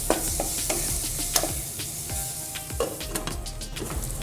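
Okra masala with tomatoes sizzles steadily in hot oil in a pan, a continuous close frying hiss broken by repeated stirring scrapes and clinks, with no voices.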